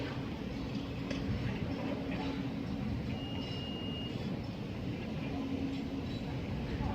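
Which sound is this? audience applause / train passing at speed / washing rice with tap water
train passing at speed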